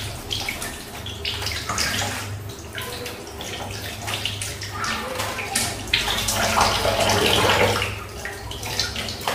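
Fish are being washed in water, with steady splashing and running water close by throughout. A voice can be heard under the sound of the water.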